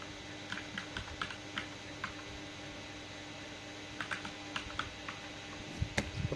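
Registration details typed on a computer keyboard, with quiet irregular bursts of key clicks separated by pauses and a faint steady hum underneath.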